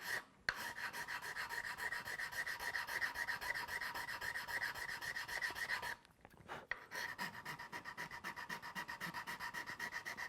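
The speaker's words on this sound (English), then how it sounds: "I'm going to flatten this off with just like a mill file, just to make sure we've got a nice flat surface to glue to" A mill file rasps across the tip of a wooden primitive bow to flatten it, giving steady rhythmic close scraping strokes with a brief pause partway through.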